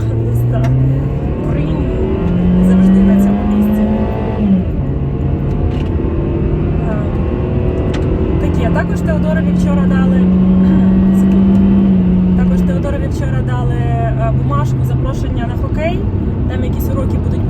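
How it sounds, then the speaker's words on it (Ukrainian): A loud car engine roars steadily, its pitch climbing as it revs and accelerates, heard from inside the vehicle for the whole stretch. "по звуку ви почуєте, як моя машина реве і намагається розігнатися"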